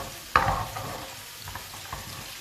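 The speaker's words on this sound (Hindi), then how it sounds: "सबसे पहले हम इसमें डालेंगे 1 अदद चॉप किया हुआ प्याज, और इसको करेंगे लाइट ब्राउन।" Chopped onion dropped into hot oil, with a sharp burst of sizzle at first that settles into a steady crackle and faint stirring.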